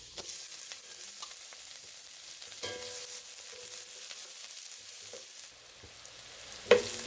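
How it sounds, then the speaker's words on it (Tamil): Chopped onion and fennel seeds frying in hot oil for crab masala, a steady soft sizzle with faint scraping of stirring and a sharp clink near the end. "ஒரு வெங்காயம் பொடியாக நறுக்கி வச்சுருக்கேன், சேர்த்து நல்லா வதக்கிக்கலாம்"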